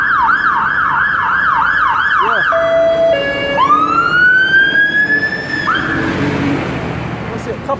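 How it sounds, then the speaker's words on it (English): Fire engine sirens wail past on a road, loud and close, cycling through a rapid warble and then long rising and falling wails as the trucks go by; a voice briefly speaks over them. "A couple of fire engines down the road"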